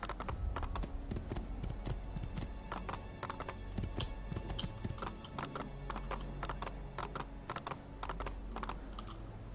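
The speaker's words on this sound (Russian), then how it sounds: "Я пыталась вспомнить, как пустить лошадь в галоп." Horse hooves clattering at speed in Assassin's Creed II, a fast, busy run of sharp clip-clop strikes with an occasional snort, continuing steadily throughout.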